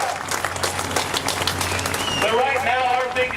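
Audience clapping and cheering at a speech held at an oil drilling rig, a dense wash of applause with voices mixed in, moderately loud and continuous throughout.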